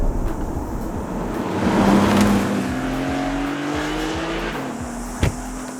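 A Porsche 911 GTS sports car drives with a steady, loud engine drone that rises in pitch as it accelerates, with faint tire noise and a sharp brief knock near the end.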